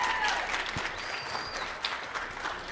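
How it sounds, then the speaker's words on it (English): Audience at the Make It Awkward Summit in Edmonton, Alberta applauds as two participants return to the stage, a steady moderately distant wash of clapping lasting a few seconds. "Give them a round of applause,"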